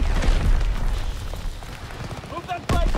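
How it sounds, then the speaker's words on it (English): Incoming mortar rounds in a multiplayer shooter, deep rumbling explosions at the start followed by a sharp booming impact near the end, amid game noise and a player talking. "enemy you got mortar fire incoming"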